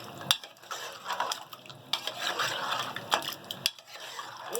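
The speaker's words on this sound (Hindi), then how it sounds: "ये चिकन में हम पूरा नमक मिक्स कर देंगे।" A spoon stirs salt into chicken in a cooking pot, giving close scraping clinks and knocks against the metal in an uneven rhythm, with faint bubbling underneath.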